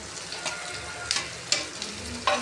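Halved boiled eggs tossed into a hot pan of egg aviyal and stirred, with a continuous sizzle broken by sharp, repeated spoon scrapes and knocks, close and fairly loud.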